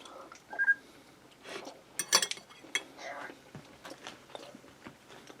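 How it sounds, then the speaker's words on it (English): Someone bites and chews a piece of tender broccoli from a ham and broccoli tater tot casserole, close and quiet, with a few fork-on-dish clinks scattered through the chewing. "I'll try a piece of this broccoli."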